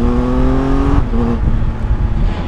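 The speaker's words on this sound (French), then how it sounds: "T'as vraiment envie d'ouvrir les gaz en grand sur cette moto." Triumph Tiger 1200 Alpine motorcycle engine pulling hard under acceleration, a loud, close, steady drone with rising harmonic tones that drop away about a second in as the gear changes, then carry on rough and continuous.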